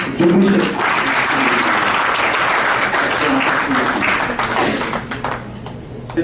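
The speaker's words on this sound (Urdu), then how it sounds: "بھرپور تالیوں میں استقبال کیجیے" An audience at an Urdu mushaira, a poetry gathering, claps warmly to welcome an elder poet, a loud, sustained wash of applause with voices murmuring underneath, tapering off near the end.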